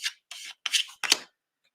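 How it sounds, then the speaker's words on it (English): A card rubbed firmly across paper to burnish it onto a Christmas junk journal collage page, four short dry scraping strokes close by in a quiet room. "I like to use this like a card, something just to burnish it down."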